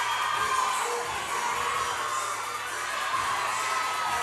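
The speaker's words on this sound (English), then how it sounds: "They're cheering for Amanda Paz." An Ackworth crowd at a fitness competition cheers for an athlete, a continuous distant roar of shouting and whoops that holds steady throughout.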